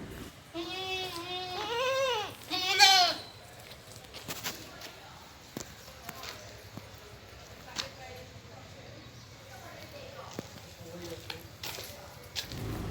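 Goats offered for sale on a farm near Vaniyamkulam in Palakkad give several close, quavering bleats in quick succession early on, followed by quieter shuffling, scattered knocks and faint background calls.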